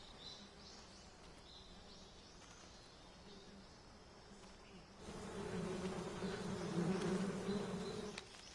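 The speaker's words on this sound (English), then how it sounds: "Okay, so right here, shoot the beehive." Bees buzz around a beehive in the stealth game Metal Gear Solid Delta: Snake Eater, a steady insect drone that swells louder and denser about halfway through, with faint bird calls in the background.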